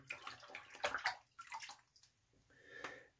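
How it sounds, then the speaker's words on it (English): A Green Ray shaving brush is swirled in a bowl of water, making close, soft sloshing and gurgling splashes in irregular bursts, with a brief pause before a final swish. "Take my Green Ray brush, swirl it around in the water here."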